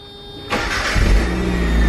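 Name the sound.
Mazda Eunos car engine starting with new push-to-start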